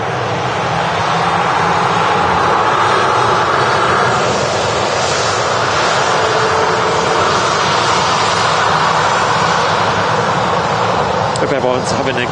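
A Loganair ATR turboprop airliner takes off from runway 23 left at Manchester Airport, a loud, steady engine roar and broadband propeller rush dominating throughout, with a voice talking over it.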